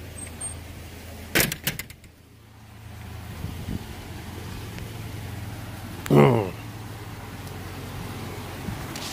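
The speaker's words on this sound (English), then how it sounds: "I'm going to go ahead and shut this door." A door is shut, making a sharp bang with rattling. After a few seconds of quiet room noise comes a second heavy clunk and latch sound.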